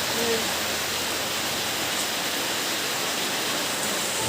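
Heavy rain pours down at home during a downpour, making a dense, constant roaring hiss that is loud and unbroken and fills the whole stretch.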